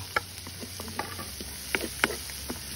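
Butter and garlic sizzling in a pan, a faint crackling fry under scattered clicks and scraping taps of stirring, fairly quiet and close.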